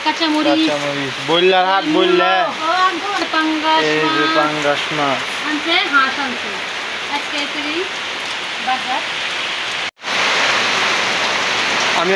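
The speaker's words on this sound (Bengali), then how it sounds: "প্রচণ্ড বৃষ্টি দেখেন বৃষ্টি আর বৃষ্টি" Heavy rain falling in a village during hot weather, a dense continuous hiss. Someone talks loudly over it through the first half.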